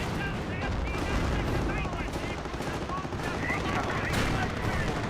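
Artillery and gunfire in the Company of Heroes video game, a dense continuous barrage of booms and rattling shots at steady loudness, with a voice talking over it throughout.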